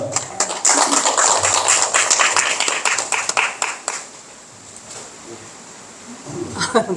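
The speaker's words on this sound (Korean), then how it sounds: "큰 박수 부탁드립니다" Scattered applause from a small group at a Korean gathering, a burst of individual claps for about four seconds that fades to quiet, followed by a few faint sounds near the end.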